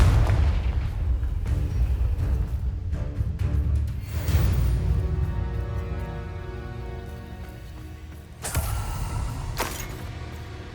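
Confringo fire spells blasting in Hogwarts Legacy, a dense run of booming bursts over a steady rumble, with a sharp louder blast near the end.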